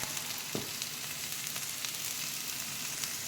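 Sardines with garlic and pepper stirred in a frying pan at home, giving a steady close sizzle and frying hiss with faint scraping of the stir throughout.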